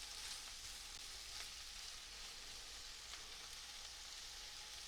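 Chicken sausage and potatoes fry in a pan with a steady, even sizzle that holds at a soft level throughout, with no voices present.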